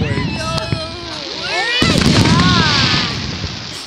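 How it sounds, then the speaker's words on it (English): Fourth of July fireworks bursting in a loud, cluttered outdoor display, with sharp cracks and booms near the start and a dense burst of crackling around the midpoint, under whistling tones and voices of people talking. "It's really going through the whole fireworks."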